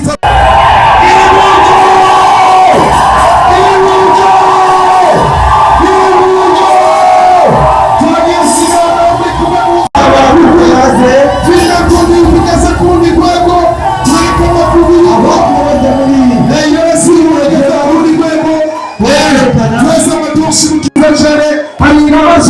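A packed audience at a film launch cheers and shouts with loud, sustained whoops that fill the whole stretch, while an amplified voice speaks over the crowd.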